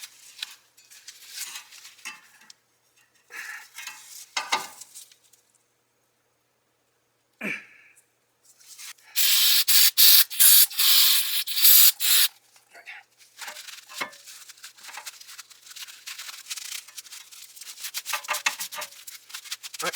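Stuck-on dirt scrubbed off a Nissan Maxima brake hub during a pad and rotor job, close scratchy rubbing in irregular bursts with a harsher, louder stretch of brisk scrubbing in the middle, and some brief talk around it.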